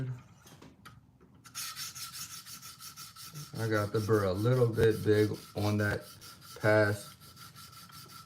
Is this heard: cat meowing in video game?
no